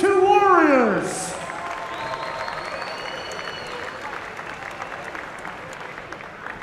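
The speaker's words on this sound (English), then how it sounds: "can we please have a round of applause for these two warriors?" Crowd applause and cheering for two fighters after a three-round hybrid-rules bout, starting loud and dense, with a voice over the first second, then settling into sustained clapping at a lower level until the end.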